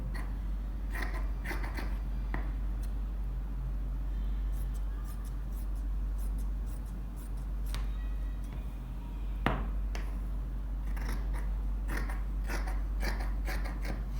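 Scissors cutting fabric for a shorts jumpsuit, a series of close, crisp snips and clicks spaced irregularly over a constant low hum in the room, with no voices.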